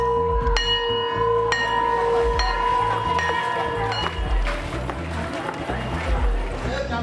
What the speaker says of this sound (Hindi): स्कूलों की घंटी फिर बजने लगी है।